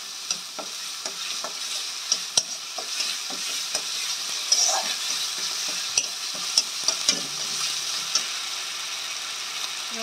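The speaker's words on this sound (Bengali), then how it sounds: "সুন্দর করে এটাকে ভাজতে হবে ভালো করে, ভালো না হলে আদা রসুনের কাঁচা স্মেলটা থাকবে" Ginger garlic paste fries in a pan while being stirred, a steady soft sizzle broken by regular light ticks and scrapes of the spoon, close and alone without speech.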